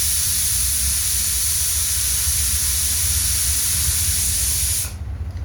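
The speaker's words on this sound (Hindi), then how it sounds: "ये जो है इस गैजेट का नाम है, इस गैजेट का नाम है प्रेशर कुकर" A pressure cooker vents steam in a loud, steady, close hiss that runs without a break for about five seconds and then cuts off abruptly, leaving a faint low hum.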